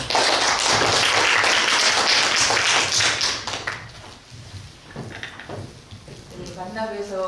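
An audience at a traditional Korean singing academy lecture claps to welcome a professor, a loud sustained burst of many hands for a few seconds that drops off, followed by faint knocks and a voice beginning to speak.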